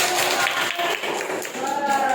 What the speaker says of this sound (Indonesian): Kelas ini pintar-pintar, jadi tepuk tangan dulu untuk semuanya.